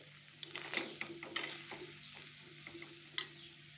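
Fish peera is stirred in a hot pan, with soft sizzling under repeated close scraping and clinking strokes of a spoon, the loudest one near the end.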